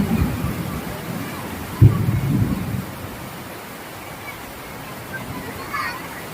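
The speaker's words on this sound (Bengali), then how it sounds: "প্রচন্ড বৃষ্টি নামলো।" Heavy rain pours steadily at a flooded railway station in Kolkata, a dense, even broadband wash with a brief louder burst near the start. Muffled voices are faintly mixed in beneath it.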